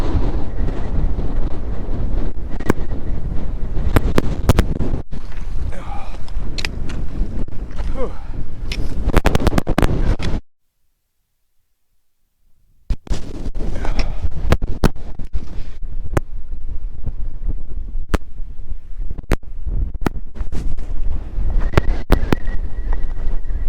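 Strong wind buffets the microphone outdoors on a winter trek, a loud continuous roar with gusty bursts that cuts out briefly midway before resuming.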